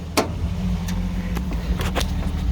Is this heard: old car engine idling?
yes